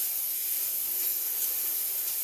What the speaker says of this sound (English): We're going to let that steam out.